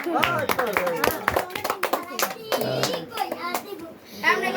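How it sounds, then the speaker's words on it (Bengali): Two people give a big round of hand clapping, a burst of close sharp claps mixed with children's voices talking over them. "দুজনে একটা বড় করে হাততালি"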